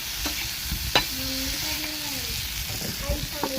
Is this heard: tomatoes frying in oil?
yes